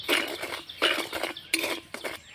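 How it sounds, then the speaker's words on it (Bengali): Semolina dry-roasting in a wok, stirred in short bursts of gritty scraping and rattling, about four distinct strokes separated by brief pauses, close and moderately loud with no speech. "এবার আমি সুজিটাকে একটুখানি নাড়াচাড়া করে যা দু মিনিটের মতো ভেজে নেব"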